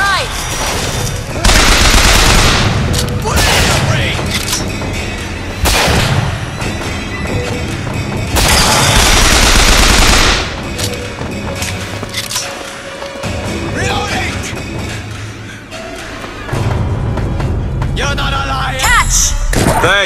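Loud, dense gunfire in the Bioshock Infinite first-person shooter, with repeated bursts and booming shots filling the scene while voices shout over the battle.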